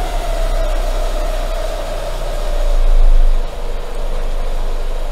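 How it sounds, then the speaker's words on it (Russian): Renault Megane 2 engine with a suspect cam phase regulator idles steadily, a close, even low hum that swells slightly for a moment before settling, with no voices over it. "Ну, холостой, холостой ход пока."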